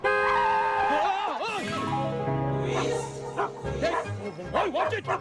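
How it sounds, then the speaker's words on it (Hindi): Dogs bark and yip in a road during a Bollywood romantic comedy, the barks mixed with music and voices, steady and fairly loud throughout. "मुझे क्या पता था बीच रास्ते में आ जाएंगे कुत्ते"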